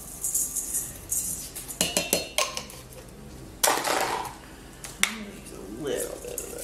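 Cast iron pan and cookware being handled during kitchen meal prep: a series of clanks and knocks of metal and dishes, several sharp hits with gaps between them, while a person talks throughout.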